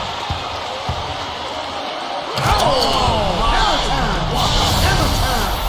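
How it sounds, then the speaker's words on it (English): A one-handed slam dunk in the NBA 2K13 basketball game: a sharp slam and rim rattle in the middle, with game commentary talking over a loud arena crowd that swells right after. "And he slams it in one-handed."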